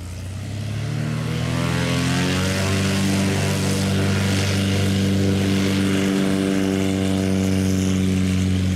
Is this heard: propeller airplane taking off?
yes